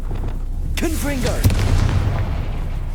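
A Confringo spell fires in the Hogwarts Legacy video game with a swooping magical whoosh and a sharp blast, then a deep rumbling boom over constant low in-game background noise.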